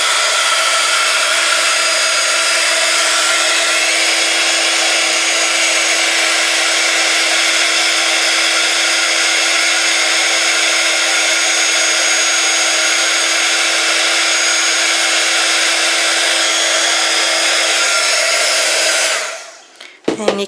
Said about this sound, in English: Getting my heat gun.